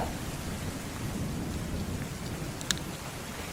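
Heavy rain pours steadily with low rumbling thunder underneath and a brief sharp crack near the end; no one speaks.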